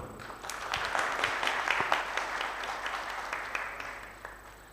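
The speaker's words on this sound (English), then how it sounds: "Please, with a warm round of applause" Audience applause welcoming a speaker onstage at a technology challenge event in Kenya, a steady patter of many hands clapping at moderate distance, fairly even throughout with a few sharper individual claps.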